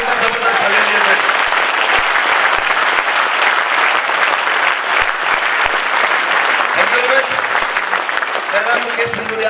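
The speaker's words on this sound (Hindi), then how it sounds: "तुमको हाथ ऊपर करके एक बार जबरदस्त तालियां दिए" Loud, sustained applause from a large crowd at a motivational seminar, dense clapping filling the whole stretch with brief voices poking through.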